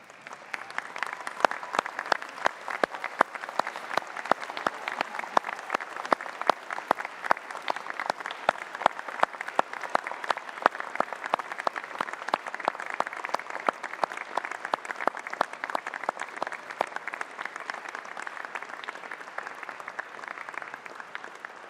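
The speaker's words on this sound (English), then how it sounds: "join us in a huge round of applause to say thank you" Graduates at a Swinburne University of Technology graduation ceremony give sustained applause, a dense, even wash of clapping from a large crowd that holds steady for over twenty seconds with no talk over it.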